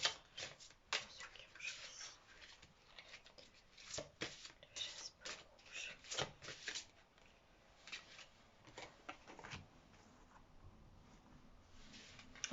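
Oracle cards gathered and shuffled by hand in a series of crisp riffling and sliding bursts, close and fairly quiet, with no talking over them.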